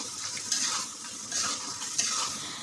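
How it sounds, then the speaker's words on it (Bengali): River chital fish stirred gently in a hot pan for a bhuna curry, with a steady sizzle broken by soft scraping strokes of the spatula at regular intervals, close and moderately loud. "এবার কিন্তু আমি মাছটাকে দিয়ে একটু আলতো হাতে নেড়ে চেড়ে 1 থেকে 2 মিনিটের মতো কষিয়ে নিব"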